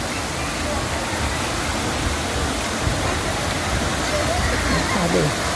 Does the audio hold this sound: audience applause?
no